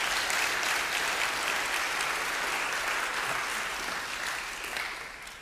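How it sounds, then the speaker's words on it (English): A church congregation claps in praise, a dense, sustained round of hand claps that fades slightly toward the end, with no voices over it. "Let's give the Lord another hand clap of praise."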